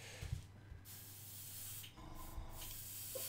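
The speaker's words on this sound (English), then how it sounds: "I'm just gonna test the spray" An airbrush sprays paint in a test burst while miniatures are being painted: a soft, steady hiss that runs in two short bursts with a brief pause between them, close to the microphone and fairly quiet.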